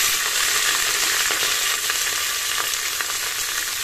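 Cauliflower and other vegetables frying in hot oil in a home kitchen, giving a steady, loud, close hiss of sizzling with faint crackles throughout and no talking.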